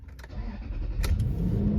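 A Lexus GX engine cranks and starts, settling into a steady low idle that stays close and continuous to the end.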